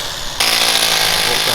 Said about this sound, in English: Hammer drills from Australia.